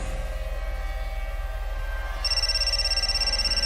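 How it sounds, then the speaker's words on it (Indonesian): A steady electronic mobile phone ringtone starts partway through over a low continuous hum, repeating evenly and fairly clear. "handphoneku berdering."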